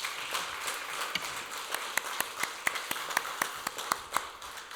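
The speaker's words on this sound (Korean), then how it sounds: "우리 다시 한번 하나님 앞에 영광의 박수 드리겠습니다." A church congregation claps in praise to God after a hymn, with distinct sharp claps rising into a rhythmic, fairly even beat over soft background clapping, moderately distant.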